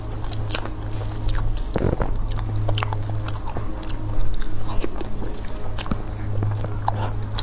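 Chocolate mousse cake being eaten close to the mic: soft bites followed by moist chewing and squishy crunches, repeated every second or so over a quiet background.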